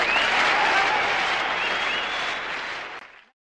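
Applause from a group of listeners responding to a dress, a dense wash of clapping and cheering at close range that stays loud for a few seconds, then fades and stops abruptly.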